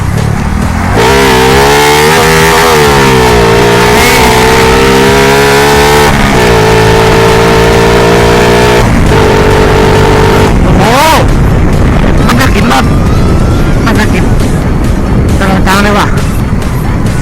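A Honda Wave 110 LED motorcycle engine revs hard and repeatedly in first gear for a wheelie, its pitch climbing and falling in loud surges, with noisy, rougher engine roar toward the end.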